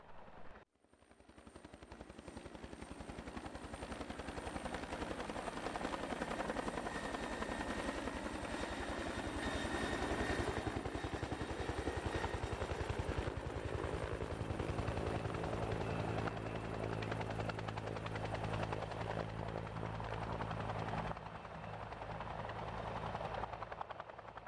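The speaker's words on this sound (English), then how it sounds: "These are the helicopters that carry water, but they also carry hope." Firefighting helicopters used against wildfires fly overhead with a loud, steady rotor roar and engine whine, constant and close for the whole stretch with no talk.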